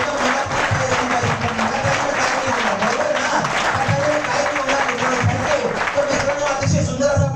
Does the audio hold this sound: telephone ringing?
no